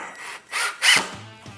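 Screws go into wood for a motorcycle helmet rack: short bursts of scraping, grinding driver noise close by, each ending with a brief low motor whir.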